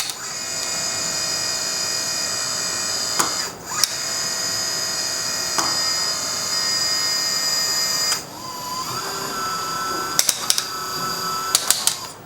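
A LESU A0041 1/14 metal RC trailer's hydraulic tailboard lifting, a steady close electric pump whine holding for several seconds with brief dips and pitch shifts, ending with a few sharp clicks.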